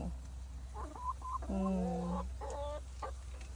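Several hens cluck and squawk in short, rising bursts close by, with one longer drawn-out call in the middle, as they learn to lay eggs in the nest, over a steady low hum.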